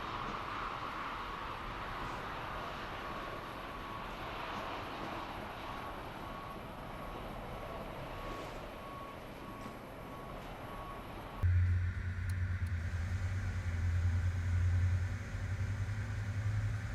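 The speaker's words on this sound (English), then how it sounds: "Both engines are starting up." Simulated twin engines of an Iberia CRJ900 jet start up at an airport in Microsoft Flight Simulator 2020, a steady whine and rumble that swells into a deeper, louder drone partway through, with no talk.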